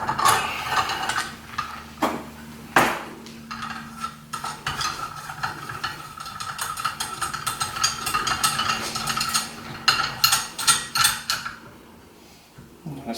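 A spring compressor tool clicks and ratchets while pressing the secondary clutch spring of a Yamaha Grizzly ATV, with metallic clanks, taps and irregular mechanical rattles close by.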